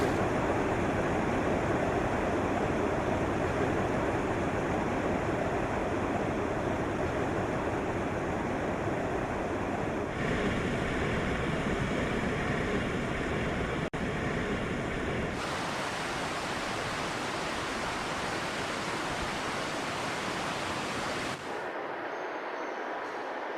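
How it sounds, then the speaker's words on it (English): Water from mountain springs and streams flows in a steady, dense rushing hiss that continues without pause and shifts slightly in tone from section to section, heard alone. "Her waters begin their flow from springs and streams emerging from the mountain"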